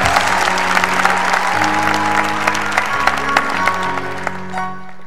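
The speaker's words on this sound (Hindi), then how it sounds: "ग्रामी के लिए भरपूर तालियां।" Studio audience applause for a guest on a Hindi-Urdu talk show, a loud, sustained patter of clapping over a steady tonal hum of music or room tones that continues throughout and fades slightly near the end.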